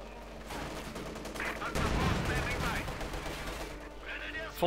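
Dense battlefield gunfire in Company of Heroes 2, a World War II strategy game, with rapid rifle and machine-gun bursts rising to a heavy volley midway; a faint voice talks underneath.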